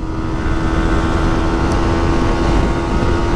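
A Yamaha MT-15 motorcycle running flat out at top speed in fifth gear, a continuous loud engine drone with a steady whine and buffeting wind noise, no pauses.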